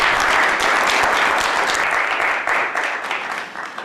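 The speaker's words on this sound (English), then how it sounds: "I think that we should give her a lot of applause, maybe a standing applause" A large audience breaks into sustained standing applause for Sister Virginia at a community gathering, a dense, loud wash of clapping that holds steady and then begins to thin slightly toward the end.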